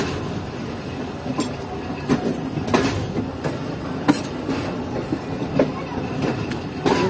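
The Mohen Jo Daro Express pulls out of a platform, with a continuous rumble and scattered clacks and knocks from the wheels as the carriages roll past close by.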